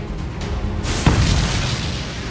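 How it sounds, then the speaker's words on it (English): A supernova explosion effect for a space documentary: a deep booming blast swells after a few soft thuds, then spreads into a sustained, rumbling roar, loud and without speech. "This giant explosion catapults a huge wave of gas across the galaxy."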